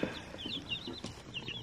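Backyard chickens, including black sex link hens, cluck and chirp softly nearby in quick, irregular bursts, with small rustles in between.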